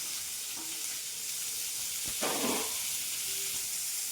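Finely chopped onions sautéing in a pan with a little salt, giving a steady close sizzling hiss, with one brief louder stir-and-spit burst midway.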